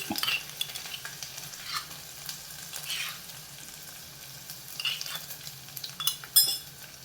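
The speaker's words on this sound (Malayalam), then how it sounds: "ഇനി നമുക്ക് ഇഞ്ചി, വെളുത്തുള്ളി, ചെറിയ ഉള്ളി ചതച്ചത് ഇതിലേക്ക് ഇട്ട് കൊടുക്കാം" Crushed ginger, garlic and shallots hit hot oil with popped mustard seeds in a clay pot for South Indian rasam, giving a soft, steady sizzle with scraping stirs and occasional light clinks of a spoon.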